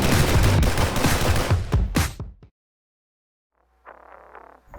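An Arsenal K-101 AK74 rifle fitted with a two-port muzzle brake fires a rapid burst of loud, close shots over about two and a half seconds, then cuts to silence before a fainter, distant rattle of further shots.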